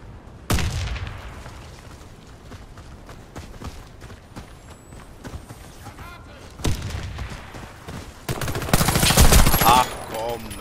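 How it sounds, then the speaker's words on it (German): Several players firing in the online shooter Warface, with rapid bursts of automatic gunfire, single loud shots and heavy volleys that cluster toward the end. Crack and rattle stay close and loud, and players talk now and then. "Und drei Leute schießen auf den."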